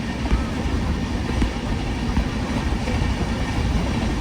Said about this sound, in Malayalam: ട്രെയിൻ ഇപ്പം 130 km/h സ്പീഡിലാണ് പോയിക്കൊണ്ടിരിക്കുന്നത്.